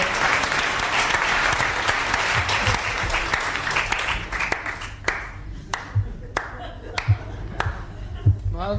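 Studio audience on a 1982 French TV game show breaks into loud, dense applause that thins out into a few scattered, sharp individual claps.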